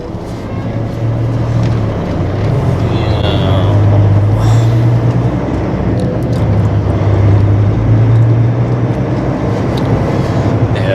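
A truck engine pulls away from a standstill after being put into gear, a steady low rumble that rises in pitch and falls as it works through the revs, with continuous road and cab noise.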